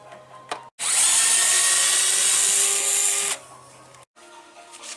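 A power driver spins out Phillips screws on a Lexus GX 460 while rock sliders are being fitted. The close, steady whir lasts about two and a half seconds, with short quiet gaps before and after.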